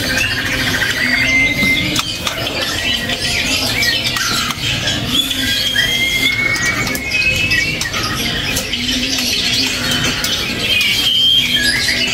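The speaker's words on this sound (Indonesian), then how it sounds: "Ini murai trotol jantan," A male oriental magpie-robin, the spotted murai trotol variety, sings loud whistled phrases with rising and falling slurs and chatter over steady market background noise, close and continuous.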